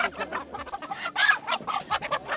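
Chickens crowded at a poultry market on a lane in Kabul in cold winter weather, giving a dense run of overlapping clucks and squawks, close by and steady throughout.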